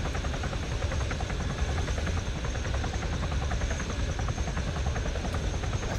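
Helicopter in the Arma 3 video game coming in to land, a steady, loud rotor thrum and engine whine that holds without a break, with no voices over it.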